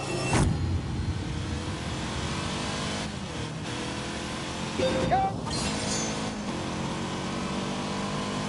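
A purple 80-horsepower classic Fiat in The Grand Tour racing game revs hard: a loud, continuous engine drone with a brief rising whine midway, then steady running.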